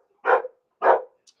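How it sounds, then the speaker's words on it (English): A dog barks twice at close range in a home, with a loud, evenly spaced pair of barks and quiet between them. "Bruce is barking at Bubby."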